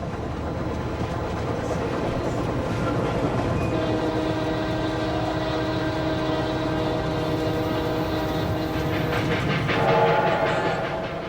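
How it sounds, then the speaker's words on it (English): A train rumbles steadily with rolling wheel noise and metallic squeals, slowing as it pulls into Sudbury Junction station in Canada, with a brief higher screech near the end. "As our train pulls into Sudbury Junction"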